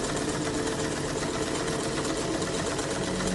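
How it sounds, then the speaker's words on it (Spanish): A pedal-driven sewing machine running steadily from upstairs, a continuous dense mechanical whirring hum with fine rapid vibration, unchanging in level throughout. "se trataba del pedal de la máquina de coser"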